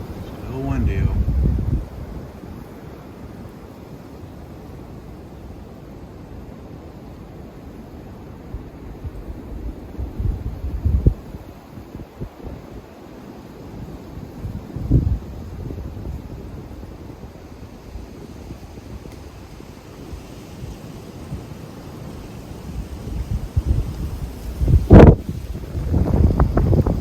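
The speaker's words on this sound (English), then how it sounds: "that wind is still a howling" Wind roars and buffets the microphone in low rumbling gusts, with a few sharp thumps and some speech along the way.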